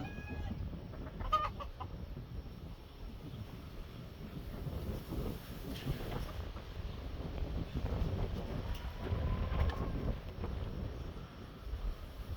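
Roosters cluck and squawk on and off nearby over a steady outdoor background, no talking.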